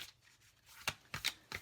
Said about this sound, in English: let's take shuffling vertically this way.